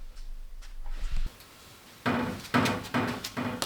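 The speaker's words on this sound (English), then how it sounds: "But we'll go ahead and pull this one off." A cowl panel being pulled off a 1968 Buick Skylark: a thump and rattle near the start, then a series of loud knocking, creaking clunks of trim and metal coming loose, close by.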